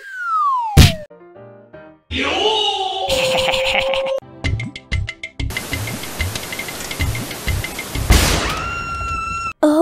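Cartoon bomb blasts in an animated Hindi comedy spoof, a run of loud booms, thwacks and bursting noise with crackly noisy stretches, abrupt cuts between effects and a rising whistle near the end, with no speech.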